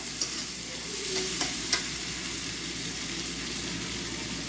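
Broad beans, eggplant and potato frying in a pan with turmeric and tomato give off a steady, close sizzle, broken by a few soft clinks and scrapes as the pieces are stirred.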